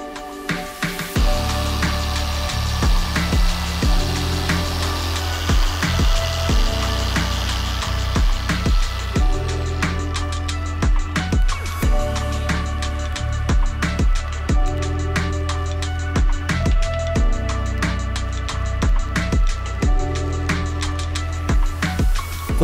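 A machine polisher fitted with microfiber pads works the paint of a Fiat Abarth 500, a steady close motor whine broken by repeated sharp clicks and knocks as the pad moves over the panels, with no talking.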